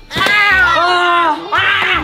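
A voice imitates a cat meowing in a comic skit: two loud, close, drawn-out meows, the first long and wavering, the second shorter, with no other sound around them.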